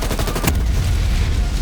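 Loud, dense explosions in a video game, a rapid cluster of booming blasts with crates flying, followed by a continuous roaring rumble that fills the whole moment.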